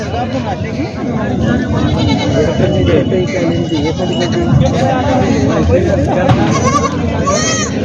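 Goats bleat here and there amid a busy crowd of chattering voices, close and continuous, at an outdoor goat market in Purna.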